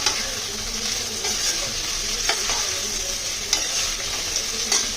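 Onions fry in a pan for chicken tandoori biryani, giving a continuous close sizzle broken by occasional sharp scrapes of stirring.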